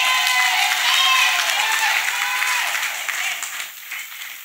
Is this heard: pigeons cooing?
no